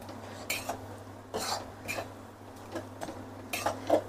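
A spoon scrapes and clinks against a pan while carrot halwa is stirred, making intermittent metallic knocks and scrapes spaced about half a second to a second apart over a steady low hum.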